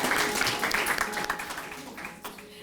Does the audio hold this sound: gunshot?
no